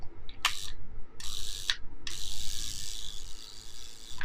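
Shutter cocking and release on a 1963 Lomo Cosmic 35 (Smena 8) film camera, a few short sharp mechanical clicks followed by a longer ratcheting rasp, close and alone.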